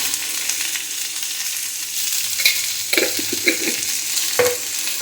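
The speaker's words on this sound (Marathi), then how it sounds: "मिरच्या चांगल्या भाजून घेते पण त्या आधी मीठ घालूया म्हणजे लवकर भाजतील मिरच्या" Green chillies roasting with salt in a pan, giving a steady dry sizzle with a few scraping stirs near the end, close and continuous with no voices.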